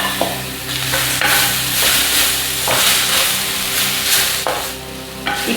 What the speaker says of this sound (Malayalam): ഇനി അതിലേക്ക് 1 പച്ചമുളക് കീറിയത്, കുറച്ച് കറിവേപ്പില കൂടെ ചേർത്ത് കൊടുത്തിട്ട് നന്നായിട്ട് വഴറ്റിയെടുക്കാം